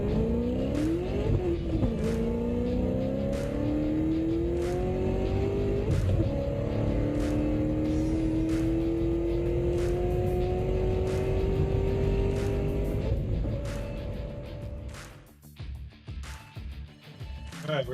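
Chevy Camaro race cars roar down a track at a Garage Wars event, engines climbing steadily in pitch as they accelerate hard through about thirteen seconds before backing off, loud and close with sharp crackles near the end.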